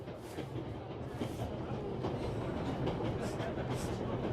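A train carrying starving people in a World War era video game rumbles along with steady rhythmic clickety-clack of rail wheels, close and continuous with no talk.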